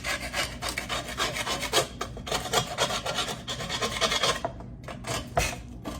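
A spatula scrapes rust off the ridge of cast iron cookware with quick, rhythmic, gritty rasping strokes, close and continuous with a few short pauses.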